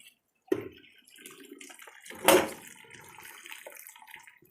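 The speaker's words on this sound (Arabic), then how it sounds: "نزلنا عليها بقى بالميه المغليه كده مره واحده" Boiling water poured all at once into a pot of chicken, a splashing gush that swells to a loud burst near the middle before settling into steady trickling, close by with no talking.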